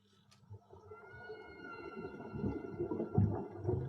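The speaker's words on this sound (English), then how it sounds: "Whale began to sing." A whale sings at sea in long, low, tonal moans that slowly swell and rise, with layered drawn-out calls building in loudness toward the end, no voices present.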